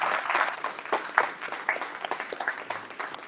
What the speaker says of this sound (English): Give yourself a round of applause here tonight.